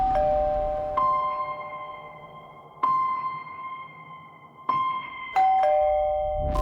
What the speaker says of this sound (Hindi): उस रात जयदेव प्रांजपे के घर की घंटी बजाई थी